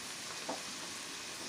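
Garlic and onion sauté in a pan for chicken pot pie filling, giving a faint, even sizzling hiss with one soft clink of a utensil partway through and no voices.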